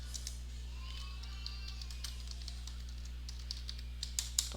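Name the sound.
typing on a computer keyboard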